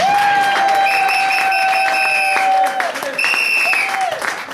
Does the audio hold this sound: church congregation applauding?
yes